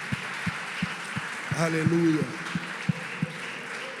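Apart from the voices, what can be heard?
church congregation applauding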